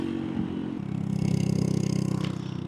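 Scooter engine with a damaged exhaust header, running at speed on a road ride and giving off a loud, steady, rattly drone throughout with no talk.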